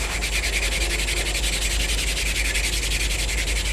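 A hamon blade is hand sanded with sandpaper, giving rapid, steady back-and-forth scratchy rubbing strokes, close and continuous with no voices.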